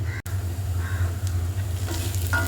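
Onions sizzle steadily in oil in a pan, close by, with a few light scrapes of stirring.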